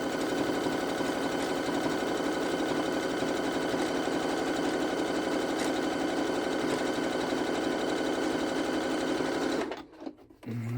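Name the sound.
sewing machine stitching knit fabric with zigzag stitch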